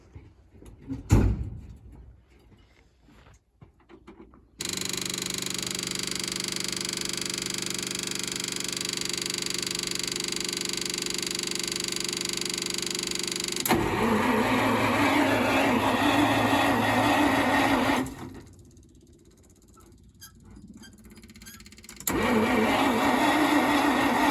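A 1941 Snow Go tarmac snowblower engine cranks and turns over in steady stretches with a brief pause between attempts, loud and close, with no speech.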